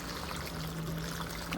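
Water pours steadily from a bucket onto potted plants, a continuous close trickling stream that holds even throughout, with no talking.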